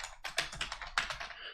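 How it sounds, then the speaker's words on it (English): Fast, furious typing on a computer keyboard during a live stream: a quick flurry of close, crisp key clicks in an uneven rapid rhythm, heard alone. "The apologies for the furious typing."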